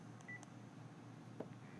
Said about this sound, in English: dial the number, then press the talk button